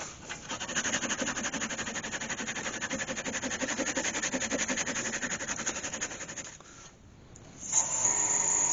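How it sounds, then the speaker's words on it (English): Sandpaper rubs steadily against a wood-turned baby elephant figure in a fast, even rasp for several seconds, then stops briefly before a short rustle follows; close and fairly quiet. "I'll get and sand that down"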